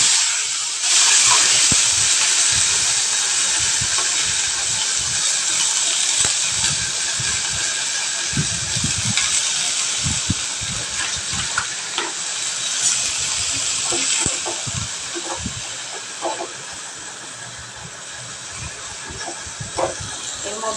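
Green chillies fry in oil in a home kitchen pan, a long, continuous hissing sizzle dotted with small pops and crackles, strongest at first and easing slightly over time.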